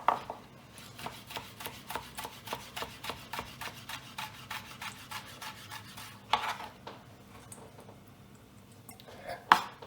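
Knife chopping food on a cutting board during salmon salad prep, a steady run of quick, evenly spaced dry taps close by, with a few louder strikes near the end.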